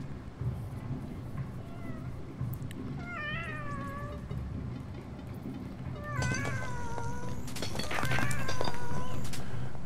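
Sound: cats meowing in the video game Animal Well

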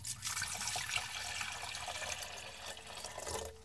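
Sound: pouring water into a pot for soup

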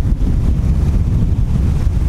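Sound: strong wind at the seaside

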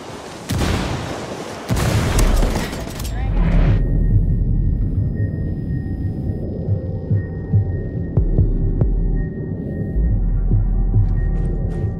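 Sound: frag grenade explosion in video game Ghost War

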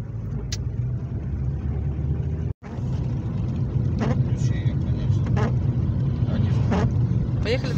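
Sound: car driving on a snowy road

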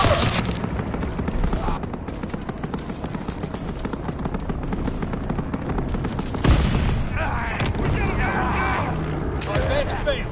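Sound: aircraft gunfire in a PS4 war video game

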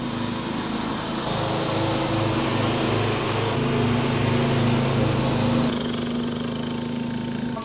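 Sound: lawn mower mowing a lawn outside

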